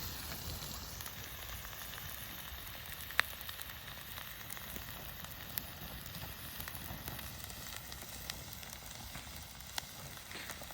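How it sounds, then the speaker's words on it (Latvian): A pan of soup sizzles over a damp outdoor campfire, giving a faint, continuous crackling hiss with scattered tiny pops and no talk. "O, uzreiz ir ritīgi čurksti."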